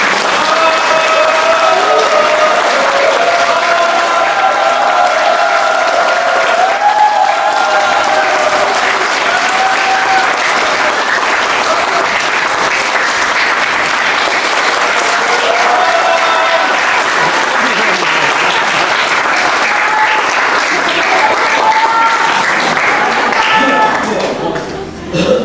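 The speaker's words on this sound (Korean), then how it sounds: "큰 박수와 함께 연상옥 대기자님" A lecture hall audience applauds steadily and loudly for about twenty-five seconds, welcoming a journalist onto the stage for a talk on civic democracy and media literacy. The dense clapping stays even throughout and thins at the very end.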